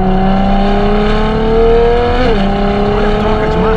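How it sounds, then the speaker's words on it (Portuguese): A Ferrari F12 TDF with a dual-clutch gearbox accelerates hard in a loud, steady engine drone that climbs in pitch, drops sharply at a quick gear shift midway, then keeps pulling upward. "Olha a troca de marcha. Olha isso aqui. Câmbio de dupla embreagem, né? Da Ferrari."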